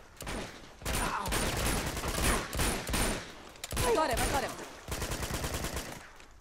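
Gunfire in Uncharted 2: Among Thieves during a hotel shootout, with loud bursts of automatic fire and single shots coming in clusters, broken by brief pauses.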